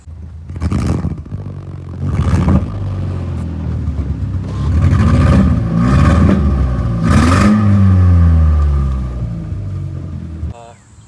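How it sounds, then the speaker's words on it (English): A 2.0 Volkswagen Golf MK4 engine runs with a misfire, rough uneven idle and several rev swells rising and falling nearby, with a voice talking over parts of it. "she's misfiring"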